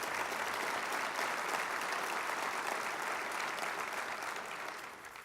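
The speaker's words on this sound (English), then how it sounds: "let us give you another round of applause for your example and your leadership" An audience at the Sachem Award presentation applauds in a dense, sustained wash of clapping that holds steady for several seconds before tapering slightly at the end, loud and close, with no speech over it.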